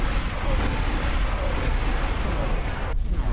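Heavy starship weapons fire in X4 Star Wars space combat, a dense continuous roar of rumbling blasts and booms filling the clip at close, loud level.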